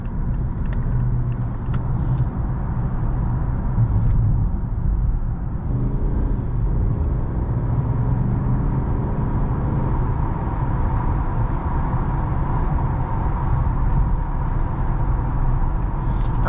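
A 2015 Mercedes-Benz S550 cruises along, its steady engine and road rumble heard from inside the cabin as a smooth, continuous drone with no talking.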